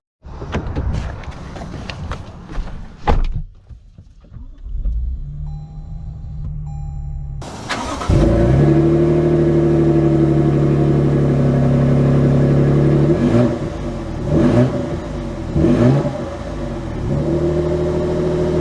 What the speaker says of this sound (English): Let's take it out and go on an interesting sort of test drive thing.